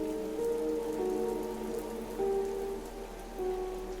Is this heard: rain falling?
yes